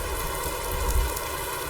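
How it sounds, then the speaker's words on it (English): Steady heavy rain hissing down, a dense continuous wash of noise with no talking. "really is throwing it down with rain"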